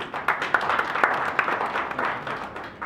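An audience at a youth conference claps steadily for a speaker coming up, a short, even burst of applause from a moderately sized crowd.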